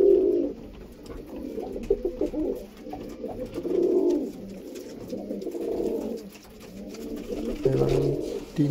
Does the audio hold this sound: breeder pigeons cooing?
yes